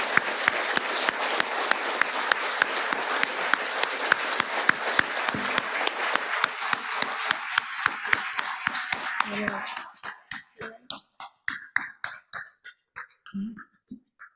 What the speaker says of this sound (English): Let's have a round of applause for our guest.